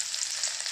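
Onion and green chillies frying in pure mustard oil produce a brief, dense, continuous sizzle, close and steady.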